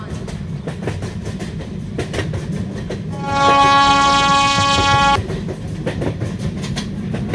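A Rajdhani Express in an Indian train simulation game sounds a long, steady horn blast for about two seconds over a constant rolling rumble of the train.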